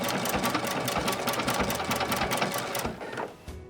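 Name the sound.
sewing machine sewing a double ribbon stitch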